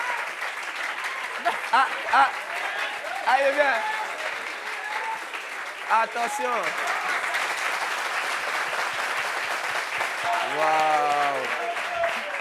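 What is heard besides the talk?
audience applause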